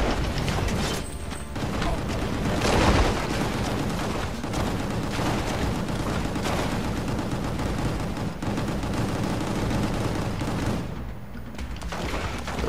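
Enemy gunfire in the video game Gungrave G.O.R.E rattles continuously amid dense game noise and mechanical clatter, loud and sustained throughout.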